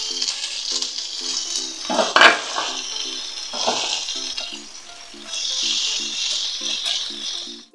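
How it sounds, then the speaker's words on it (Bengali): Boiled green jackfruit goes into a pan of fried vegetables: a steady close sizzle of frying with a few clattering stirs and a sharper pan knock midway, the hiss swelling again toward the end. "এবার আমি দিয়ে দেব"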